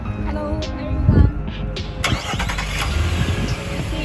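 A 2020 Nissan Patrol engine cranks and fires at close range, a sharp loud burst midway that settles into a steady idle rumble, with faint voices in the background.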